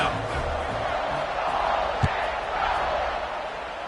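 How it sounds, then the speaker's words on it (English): A stadium crowd roars steadily in the college football video game NCAA 25, a broad continuous wash of noise with one short thud partway through, under a commentator's voice. "this crowd now ready to get behind them."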